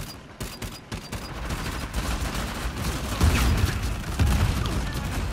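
Dense, sustained blind gunfire in a multiplayer shooter video game, rattling bursts and shots layered into a continuous loud fusillade with rumbling low booms, no clear pauses.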